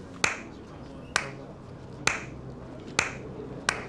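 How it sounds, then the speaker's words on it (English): One person claps slowly and sarcastically, five sharp, isolated claps spaced about a second apart, close and clear over a quiet room with no talking. "Giving him a round of applause"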